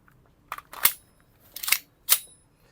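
Three sharp plastic clicks and clacks of a Tokyo Marui gas blowback airsoft pistol having its magazine inserted and slide racked, close and crisp, separated by brief pauses.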